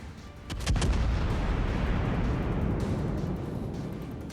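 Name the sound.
ship guns firing in a naval video game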